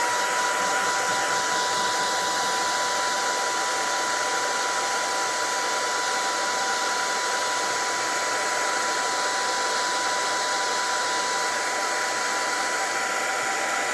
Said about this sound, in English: And then we'll bring your hair dryer over.